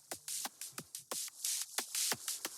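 Crisp top-end drum machine percussion with the low end cut away and no OTT compression, a loose pattern of sharp clicky hits and hissy noise bursts repeating a few times a second, dry and upfront.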